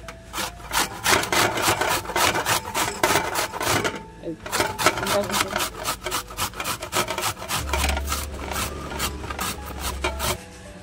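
Mango being grated on the coarse side of a hand grater, with rapid rhythmic rasping strokes close up, in two stretches separated by a short pause.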